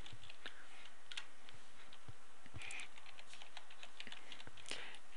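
Computer keyboard typing a user ID and password, with a scattering of light, uneven keystrokes and short pauses under a faint steady background hiss.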